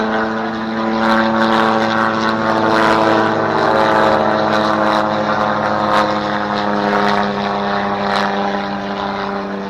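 A rotary-engine radio-control model Sopwith Camel drones steadily overhead, loud and continuous, with a rough, buzzing rotary tone that barely changes for the whole stretch.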